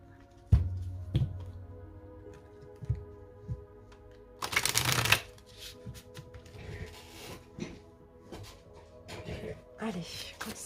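Tarot cards are shuffled by hand in two short, crisp riffling bursts, with soft taps and card handling between them over a faint background tone.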